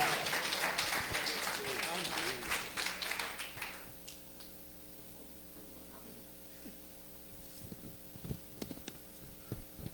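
A church congregation at a Sunday service applauds, a burst of clapping that fades after a few seconds, leaving a steady mains hum and a few scattered taps.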